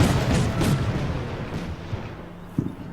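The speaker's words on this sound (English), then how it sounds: "Whoa! Heavy machine gun." Heavy machine gun fire in the Combat Mission Shock Force 2 battle game, a dense, rumbling barrage of bursts and booms throughout, with a sharper, louder report near the end.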